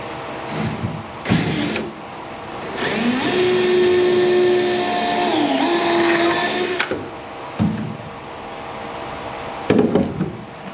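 A drill whines steadily for several seconds while boring a pilot hole in wood, its pitch dipping briefly under load, with soft clunks before and after.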